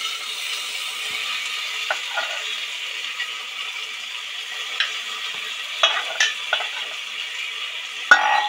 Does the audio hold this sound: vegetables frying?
yes